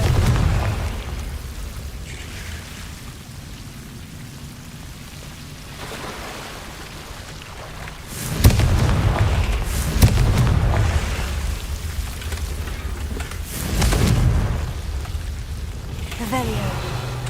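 Confringo spell explosions in the Hogwarts Legacy video game burst out as a few loud booms spaced several seconds apart over a steady rumbling game ambience, with a voice speaking at times.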